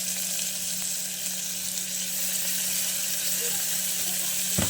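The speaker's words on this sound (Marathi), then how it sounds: "कुकरमध्ये लसूण घालून घेऊया कांदा आणि कढीपत्ता घातलेला आणि टोमॅटो घालून घेऊया" Garlic, onion, curry leaves and tomato sizzle in hot oil inside a pressure cooker during a tempering, a steady close-up frying hiss that continues evenly throughout.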